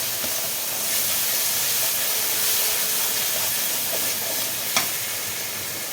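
Spice masala stir-fried in a pan with fish curry and potatoes, a steady broad sizzle and hiss with occasional stirring scrapes, close and continuous.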